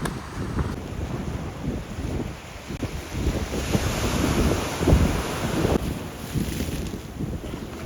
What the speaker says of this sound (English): winds definitely picked up. It's more windy, more cloudy.